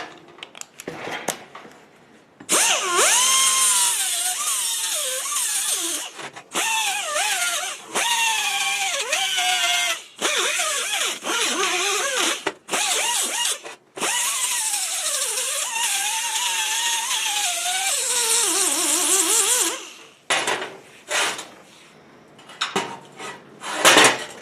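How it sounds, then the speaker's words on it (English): Welding and grinding on a rusty railroad track being made into a tooling anvil, with a long continuous whining grind broken by brief pauses and metallic scraping, loud and close with no talk. "let's get some welds in there and start grinding all over again"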